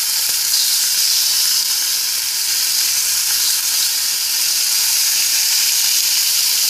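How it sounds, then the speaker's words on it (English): Bacon frying in a pan with no added oil, a loud, dense, continuous close sizzle and crackle that holds steady throughout, with no voices. "Cook up your bacon."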